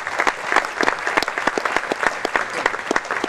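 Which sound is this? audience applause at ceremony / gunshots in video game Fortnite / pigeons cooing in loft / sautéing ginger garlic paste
audience applause at ceremony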